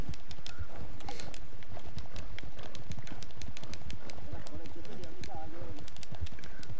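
In the video game Red Dead, a horse's hooves clip-clop in a quick, rhythmic gallop, close and clear, while people talk and laugh over it.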